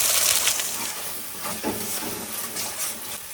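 Spice paste hits hot oil and ghee in a wok with bay leaves, dried chillies and ginger paste, giving off a loud, steady, bright sizzling hiss that carries through with no talk.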